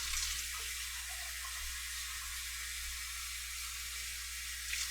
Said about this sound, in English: we're just going to start dumping water in here as well